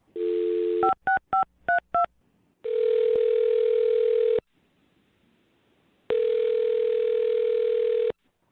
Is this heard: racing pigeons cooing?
no